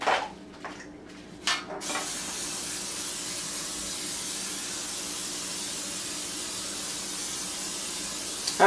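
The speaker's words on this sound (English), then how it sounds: "Get some more spray." A few short spritzes of vegetable cooking spray, then a long steady aerosol hiss held close by and continuing without pause.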